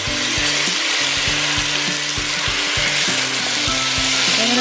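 Tomato, garlic and onions sauté in a hot pan for Filipino pinakbet, giving a loud, steady hissing sizzle with scattered light knocks and scrapes of a utensil against the pan, close up and with no talking.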